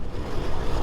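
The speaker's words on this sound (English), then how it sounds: "I hope you guys can hear me with this wind." Strong outdoor wind buffeting a microphone, a loud continuous low rumble with gusty swells filling the short moment, no voice audible.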